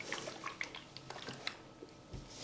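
Water trickles and splashes faintly into the tank of a Singer steam iron, a soft, steady pouring texture with small drips throughout.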